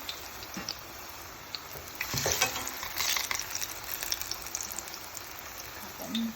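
Plantain slices for patacones sizzle and crackle in a pan of hot oil, a faint, steady frying hiss with scattered pops and a few louder bursts.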